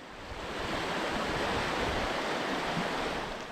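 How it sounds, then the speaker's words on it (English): Waterfall on Little Spearfish Creek in Spearfish Canyon, a dense, steady roar of falling water that rises quickly and holds even, loud and enveloping, with no talking. "the falls began to flow again"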